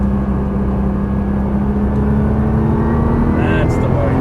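A Nissan GT-R engine drones loudly on a racetrack as the car accelerates, its steady tone holding under an instructor's voice before a brief change near the end as it upshifts.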